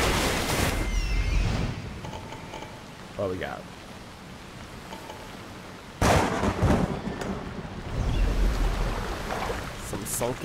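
Lightning cracks and thunder roll over a pirate ship at sea in Assassin's Creed Odyssey, two loud sudden strikes separated by quieter stretches of rain and water noise, with voices heard between them.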